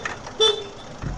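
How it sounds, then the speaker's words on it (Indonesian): A single short motorcycle horn toot sounds briefly amid steady traffic noise, close by and moderately loud. "ini gua bilang klakson, akhirnya motor yang depan tahu kita ada"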